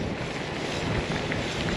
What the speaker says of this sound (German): Zum späten Nachmittag kommt immer doller Wind auf.